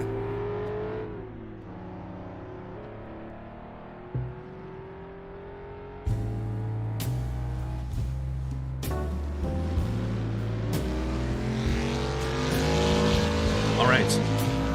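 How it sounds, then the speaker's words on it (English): Historic race car engines idle and rev in the paddock at a Rouen preseason test for a historic road racing championship, with a steady low drone broken by rising and falling rev sweeps from several cars at moderate distance. "you can probably hear the engines in the background"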